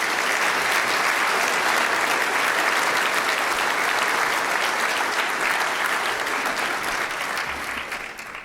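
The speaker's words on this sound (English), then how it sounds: "Please give them a round of applause as they join me up here on stage." Audience at a business luncheon applauding a panel as they come on stage, dense sustained clapping from a large room that tapers off near the end.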